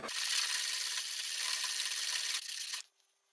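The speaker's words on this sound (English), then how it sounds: "I'm applying that same pressure along the full blade, sliding it up and down." A steel blade slides up and down along its full length on a whetstone with steady pressure, giving a continuous close rasping scrape for nearly three seconds before stopping abruptly into quiet.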